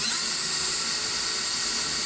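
An electric drill whines steadily and loudly, boring a hole through the body of a Mustang Cobra near a taillight, with a continuous high-pitched grinding and no pauses or voices.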